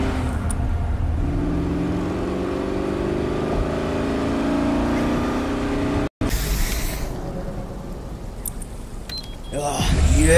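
City car traffic in Cyberpunk 2077: a steady wash of engine rumble and passing vehicles, a brief dropout midway, then a sharper, brighter burst of road noise toward the end, with voices faintly under it.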